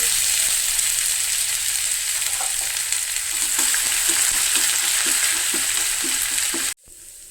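Urad dal, toor dal and ginger fry in hot oil for curd rice, making a loud, continuous sizzle with soft stirring taps, cut off abruptly near the end.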